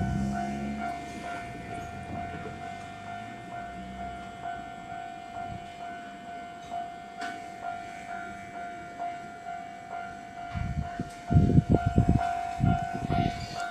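A rapid train pulls in to platform 3 at a station, its rumble steady and moderate beneath a constant tonal hum, with louder clattering bursts near the end.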